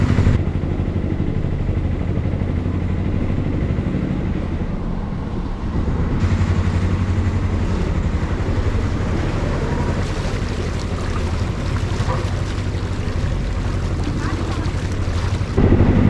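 Engine of a 94-year-old wooden canal narrowboat under way, a steady low throb running continuously beneath strong wind buffeting and water noise, loud and close throughout.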